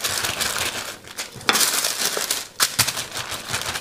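Baking paper crinkles and crumples in close, loud, irregular bursts as it is handled and turned while sweets are shaped, with sharper rustles and brief pauses between movements.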